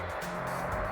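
Traffic on a busy road beside a highway in rural Tennessee, a faint, continuous wash of passing cars with one vehicle swelling slightly nearer.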